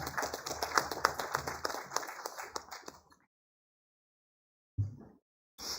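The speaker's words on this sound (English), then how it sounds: "Please welcome with a huge round of applause." Audience at a smart cities summit gives applause for a keynote speaker, a few seconds of lively clapping that stops abruptly into silence, followed by brief sounds.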